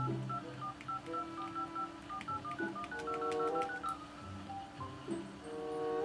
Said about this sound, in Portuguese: Eu vou ligar pro Bruno Bert.